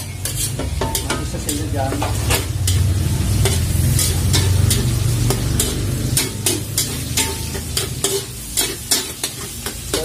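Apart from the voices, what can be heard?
stir-frying beef tapa with garlic, onion and pepper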